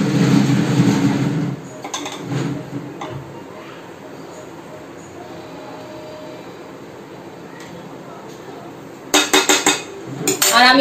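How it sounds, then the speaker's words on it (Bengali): A plate is taken out for serving in a home kitchen, giving a few sharp ceramic clinks and clatters near the end after quieter handling noises. "এবার আমার ছেলের জন্য প্লেটটা বের করে নিই।"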